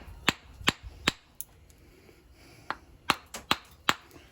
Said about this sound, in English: I'm going to take a hammer and I'm going to try and break it apart